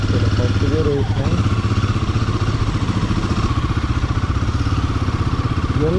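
A Royal Enfield 450 single-cylinder motorcycle engine pulls away in first gear, a close, steady, throbbing mid-pitched exhaust beat throughout, with someone talking over it.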